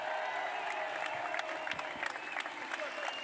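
An outdoor ceremony crowd claps and cheers for the Tennessee Volunteers baseball team after their College World Series run, sustained applause with scattered sharp claps, slightly distant, with a faint voice or PA murmur underneath.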